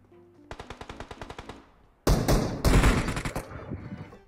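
Gunfire in PUBG Mobile: a quick string of about a dozen evenly spaced shots, then a much louder, dense close burst of automatic fire with ringing tail.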